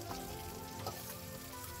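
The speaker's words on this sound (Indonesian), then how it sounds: "sekarang kita masukkan cabai beserta terasinya. Sekarang kita goreng sampai semuanya matang ya" Steady, dense sizzling of chili and shrimp paste frying in hot oil, continuous and close throughout, without speech.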